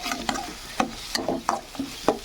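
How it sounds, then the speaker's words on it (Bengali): Spices with a splash of water are stirred and fried in a pan for an egg and yogurt curry over low flame, with repeated scraping strokes every half second or so over a soft, steady sizzle, close by and fairly quiet. "মিষ্টি বাটিটা ধরে একটুখানি জল দিয়ে কষাতে থাকবো"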